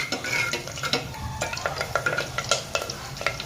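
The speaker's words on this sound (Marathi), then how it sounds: "आपलं आता तेल गरम होत आहे" Oil heating in a pan for a clay-pot chicken recipe, with stirring scrapes and clinks of a utensil against the pan over a soft, steady sizzle, close and moderately loud.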